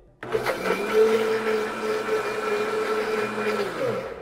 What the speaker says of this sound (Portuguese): Nesse preparo aqui, a gente já pode colocar o liquidificador para bater.